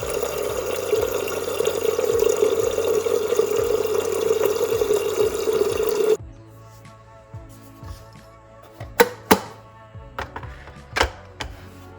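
Water runs steadily from a kitchen tap into a vessel for heating, a loud continuous stream for about six seconds that then stops, followed by a few sharp clinks and knocks of the pot being handled.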